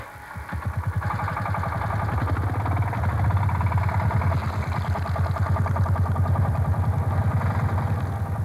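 Engine of a mobile hydraulic log splitter starting and running, a loud, close, steady chugging idle with a rapid regular pulse that holds throughout.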